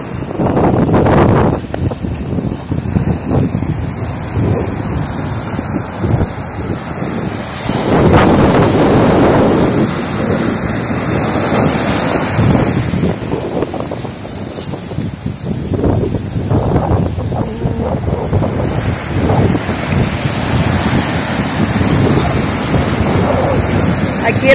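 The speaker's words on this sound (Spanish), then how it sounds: "océano Pacífico, está saladita la agua." Pacific Ocean surf rolls and crashes continuously along a beach, the waves loud and close with heavy wind buffeting the microphone throughout.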